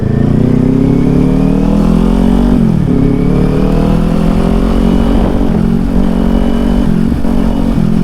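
A Kawasaki Ninja 400 rides through traffic, its engine a loud, close, continuous drone that rises and falls slightly as the revs shift, with wind noise underneath.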